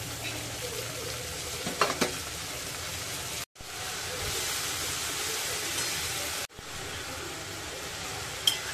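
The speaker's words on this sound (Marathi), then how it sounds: "लगेच आता त्यामध्ये आपण बारीक चिरलेली पालेभाजी घालून घेऊया." Finely chopped leafy greens, amaranth-type chavlai, hiss and crackle in a pan over low gas as they are stirred, a steady close sizzle broken by two brief silent cuts, with faint scraping strokes.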